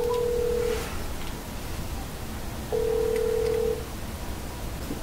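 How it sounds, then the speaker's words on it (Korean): A steady electronic telephone tone from an LG G7 ThinQ smartphone placing a call sounds twice, a short beep followed by a longer one a couple of seconds later, over faint background hiss. "전화를 걸어보겠습니다."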